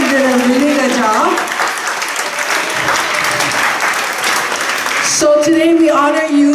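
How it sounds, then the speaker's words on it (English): School awards assembly audience applauding, a loud sustained burst of clapping that begins over a voice on a microphone and gives way to more talk near the end. "let's give a big round of applause for our two vice principals and our curriculum coordinator"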